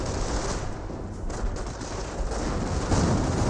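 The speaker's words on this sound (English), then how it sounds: "and now the Callio barrage onto the MG42" Calliope rocket barrage slamming onto an MG42 position in Company of Heroes, a dense, continuous roar of explosions and rapid impacts, loud and sustained with no talk over it.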